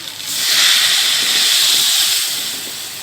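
Water poured into a hot pan of sautéed rice being cooked alongside trotters, bursting into a loud, close hiss of steam that swells quickly and then slowly fades.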